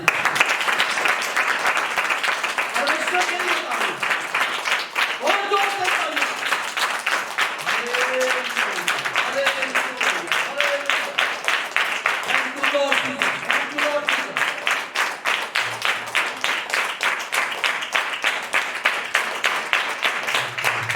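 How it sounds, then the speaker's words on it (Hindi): A church congregation claps steadily and rhythmically for about twenty seconds, the beat even and loud, while a voice calls out intermittently over the clapping. "तालियां।"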